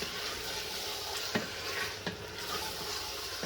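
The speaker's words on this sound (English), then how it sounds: "you mix it well with the meat, so that the garlic and onions and the ginger and everything just mix in with the meat" Meat frying in a pan with garlic, onions and ginger for tinola, a soft continuous sizzle with a couple of sharp scrapes as it is stirred, fairly quiet and with no talking.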